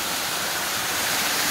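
Waterfall in Pomerode, Santa Catarina, Brazil, a steady broadband rush of falling water, continuous and fairly close with no voices.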